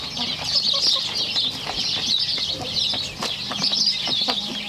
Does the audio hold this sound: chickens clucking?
yes